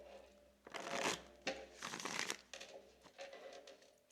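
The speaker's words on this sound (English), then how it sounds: "Give them a shuffle" Deck of tarot cards being shuffled close up, a series of quick riffling, papery bursts in an uneven rhythm, fairly quiet and with no talking.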